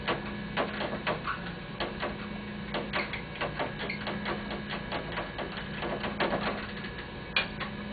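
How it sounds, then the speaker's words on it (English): A hand crank being wound to lower an operating-room stretcher back to flat, giving a steady run of close, irregular mechanical clicks and ticks over a low hum for about eight seconds. "We can grab this crank and go ahead and crank it back down."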